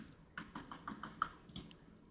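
Fast, fairly quiet keystrokes on a computer keyboard while setting up a flight simulator, a quick irregular run of individual taps close to the mic.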